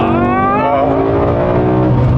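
BMW M5 engine revving hard and close, its harmonic howl climbing and sweeping through rising revs for about two seconds, loud and alone with no talk.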